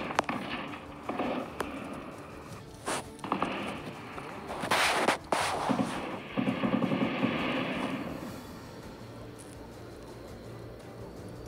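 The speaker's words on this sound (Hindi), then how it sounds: "ये फायरिंग की आवाज आप लगातार सुन रहे थे" Gunfire crackles during a terrorist attack on an army camp in Rajouri, Jammu and Kashmir, in a string of irregular sharp reports from some distance, some clustered in quick bursts, with noisy background between them.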